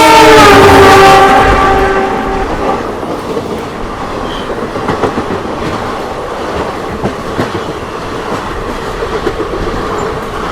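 Humsafar Express passenger train running through Assam, a loud horn blast at the start fading into steady rail rumble and rhythmic clickety-clack of the carriages over the tracks.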